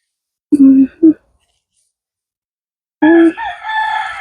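Roosters crowing in a garden, a short loud call followed by a brief second burst, then after a pause another long crow trailing off, with no other sound between.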